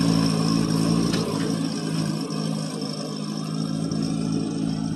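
A Satoh S650G compact tractor's small engine runs steadily throughout, a continuous mid-pitched drone with a low rumble, close and fairly loud, with no voices.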